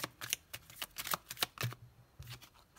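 Tarot cards are shuffled and drawn in quick, crisp riffling bursts and soft slaps, close and fairly quiet, with no talking.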